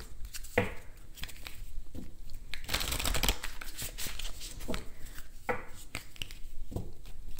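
Moonology oracle card deck being shuffled close up, a run of crisp riffling and slapping card sounds in irregular bursts.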